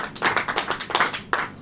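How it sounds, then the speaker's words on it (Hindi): Congregation at a church service clapping hands during a sermon, a quick rhythmic run of claps followed by a couple of louder isolated claps, fairly close and without talk. "थोड़ा ताली बजनी चाहिए"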